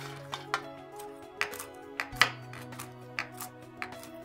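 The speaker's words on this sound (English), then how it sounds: "let the walnuts cool, and then we're gonna chop them coarsely" Knife strikes a board in irregular taps, coarsely chopping toasted, cooled walnuts for a roast pork walnut stuffing; sharp close thuds spaced through a quiet kitchen with a low steady hum beneath.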